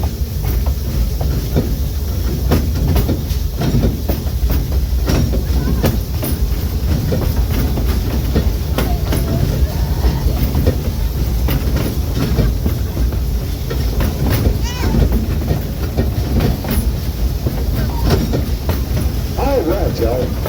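Rumbling ride on the Silver Dollar City theme park train through the woods, with continuous wheel clatter and carriage rattle throughout, while a voice talks over the steady rolling noise.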